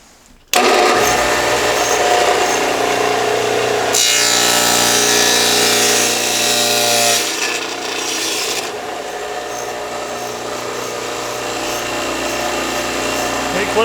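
A dado stack on a 12-inch table saw cuts through sandy plywood with a loud, continuous rasping whir, the tone shifting as the cut progresses and the blade spins on afterward.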